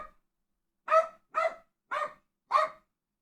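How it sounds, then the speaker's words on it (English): A dog barks four times, separate sharp woofs spaced about half a second apart, close by and alone against silence. "My dog is barking in the background."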